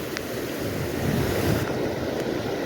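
A small flooded stream rushes nearby, a steady dense roar of churning water with wind buffeting the microphone, continuous and fairly loud throughout.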